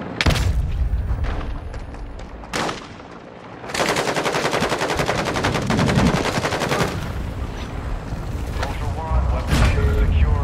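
Gunfire in Warzone 2.0 with sniper shots: loud sharp cracks at the start, then sustained rapid automatic bursts through most of the stretch, with a brief lull before a dense volley, close and dominant.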